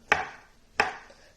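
Homemade gnocchi dough being cut into pieces, three sharp knife strikes against a board about two-thirds of a second apart, close and crisp, each followed by a short fading scrape, with no talking.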